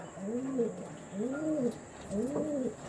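Pigeons cooing at close range, three rounded, throaty coos in a steady, evenly spaced rhythm, with a faint background hum and no talking.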